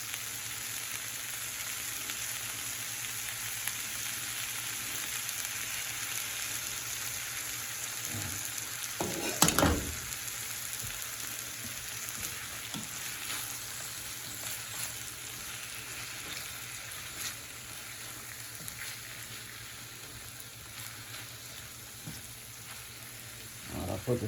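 Whole pink salmon sizzling in a pan as soy sauce is added, a continuous close hiss and crackle with a brief louder burst partway through, then the fry settling back to a steady sizzle.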